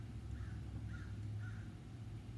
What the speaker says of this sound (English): That's crows having a murder.